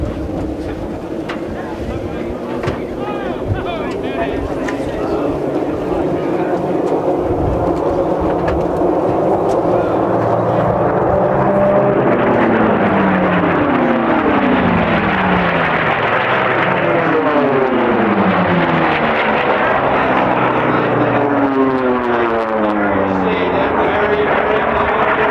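Unlimited-class propeller racing airplanes roar past at the Reno air races, six planes of around 4,000 horsepower each, a loud rushing drone swelling with wind noise and sweeping pitch shifts as they pass.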